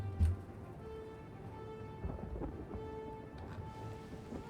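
Steady rain falls with a low rumble of thunder in the DAC Moria video game, a constant wet hiss punctuated by a deep roll near the start and softer swells later, heard alone without voices.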